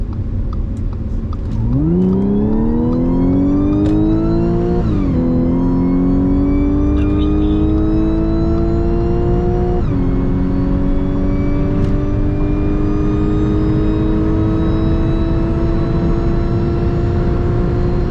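Audi B8 with a newly replaced DSG mechatronic unit accelerating onto a highway, engine pitch climbing steadily through several upshifts, each gear change marked by a brief dip, loud and close from the cabin.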